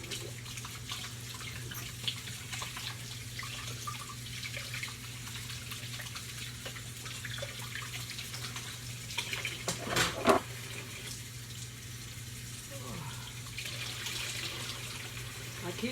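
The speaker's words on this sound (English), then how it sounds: "I keep my dishwater running too." Hot dishwater runs steadily from a kitchen tap, a soft continuous faucet stream with a brief louder splash midway, heard faintly alone at low level.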